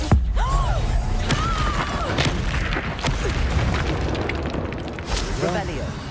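Confringo spell blasts in the Hogwarts Legacy video game: dense, booming explosive bursts and crackling magical effects fill the whole stretch, with a person talking over the action.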